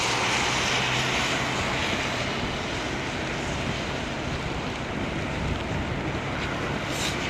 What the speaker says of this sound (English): Little or no thrust, reverse thrust